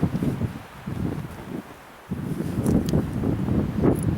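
Wind gusting outdoors across a microphone during a tinder fire-starting attempt, steady low rumbling buffets that dip briefly then return stronger, with light rustling on top.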